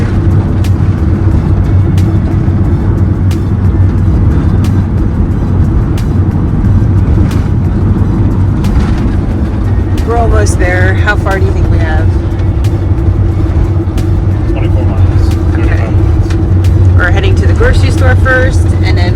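Steady road noise from a car driving along, a continuous close rumble throughout, with people talking over it in the second half.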